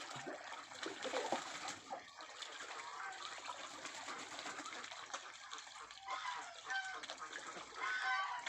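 Busy duck farm in Roi Et, Thailand, with steady clucking and quacking over splashing water, birds calling near and far throughout, no talking.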